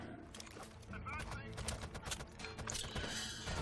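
Suppressing automatic gunfire from a rifle in the tactical shooter Rainbow Six Vegas 2, dense rapid shots packed into a busy game mix for several seconds, with a voice talking over it.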